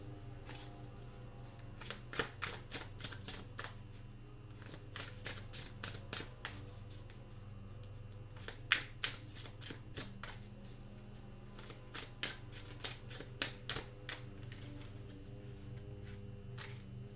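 Tarot cards are shuffled over a long stretch, a series of soft, close flicking and slapping bursts in clusters with brief pauses, fairly quiet above a low steady hum, with no one speaking.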